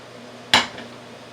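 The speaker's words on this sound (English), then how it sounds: "So I'm going to put some olive oil in here." Olive oil is added to a frying pan while making shrimp vegetable lo mein, giving one sharp metallic clank of the pan near the mic, followed by a softer knock and quiet room tone.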